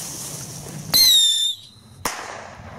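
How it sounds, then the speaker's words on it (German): A Panda mini rocket firework launches with a loud, sharp whistling screech that slides slightly down in pitch for about half a second, followed by a quiet pause and then a single crisp bang. "jetzt machen wir eine Panda-Mini-Rakete."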